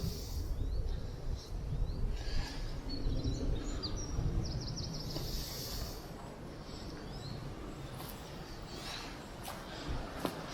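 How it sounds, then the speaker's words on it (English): Birds sing faintly in the distance in the woodland at Holme Fen, with a few brief high chirps and trills rising over a constant low rumble of wind or outdoor noise. "hearing the birds sing."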